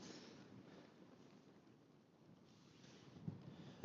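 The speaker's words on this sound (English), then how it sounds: "the helm wind just isn't backing off." Strong helm wind blowing across a wild campsite near High Cup Nick in Cumbria, a steady rushing roar buffeting the microphone and tent, swelling and easing slightly with no speech.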